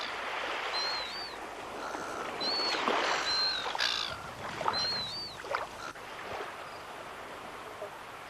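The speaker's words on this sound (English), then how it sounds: "Pelicans are quite at home here with the seagulls and terns." Seabirds such as pelicans, seagulls and terns on a South Australian coast and estuary, giving several short, faint calls spaced over a soft outdoor wash of wind and water.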